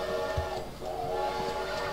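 A train in the Roller Coaster Tycoon video game, a sustained tonal whistle-like drone over a low rumble, steady and fairly loud throughout with no talking.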